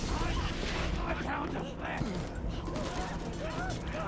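Meat Grinder Torgue combat rifle fire in Borderlands, dense rapid gunfire and clanking weapon mechanisms in a busy game mix, with someone talking over it.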